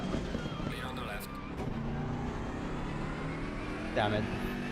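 In Assetto Corsa Competizione at Indianapolis, a race car passes on the left. A continuous, droning engine whine fills the clip and swells slightly as the other car draws alongside near the end.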